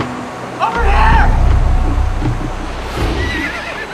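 A horse gives a loud whinny early on, with hoof clatter and a rough outdoor background in the Andes. A voice talks faintly around it.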